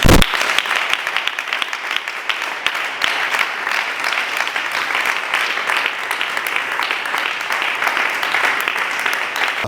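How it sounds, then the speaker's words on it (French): Dense, loud applause and ovation from a crowd at a press conference evaluating a 21-day seminar, a sustained close-up roar of many hands clapping without pause for nearly ten seconds. "Merci donc de ces ovations"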